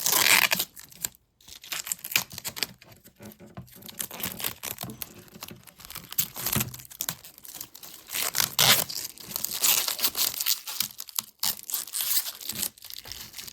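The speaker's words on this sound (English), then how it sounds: "Let's go ahead and unwrap it though. Oh my goodness, the peel, the all-important peel." An ASRock Arc B570 Challenger OC graphics card is unwrapped and its protective film peeled away, with loud close crinkling, tearing and rustling bursts separated by short pauses.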